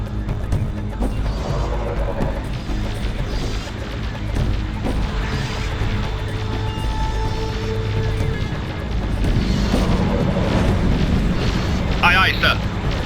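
A squadron of spaceships blows up in the space strategy game Nexus: The Jupiter Incident, heavy rumbling explosions and crashing bursts layered over a constant low roar, with some brief voice chatter mixed in.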